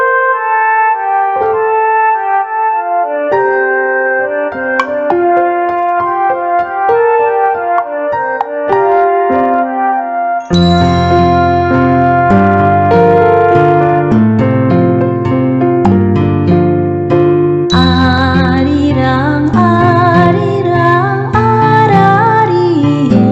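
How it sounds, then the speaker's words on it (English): Korean folk song Arirang plays as melodic instrumental music, a lighter opening that swells into a fuller, louder arrangement partway through, with no voices. "Here is the song of Arirang."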